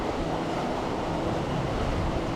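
Big rolling ocean swells and strong wind on a sailboat under genoa, heard as a continuous loud rushing wash with wind buffeting the microphone, no voices.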